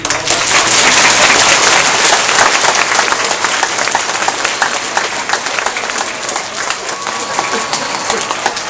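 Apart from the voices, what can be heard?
round of applause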